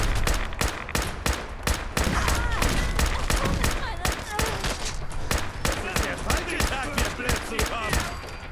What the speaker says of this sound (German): Die schießen mit Gamma-Kanonen.